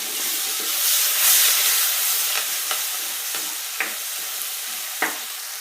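A spoon stirs chili, ginger and garlic paste with red chili powder in a hot pan. The sizzle and hiss is bright and steady, and four or five soft scraping strokes come through toward the end, close by with no talk.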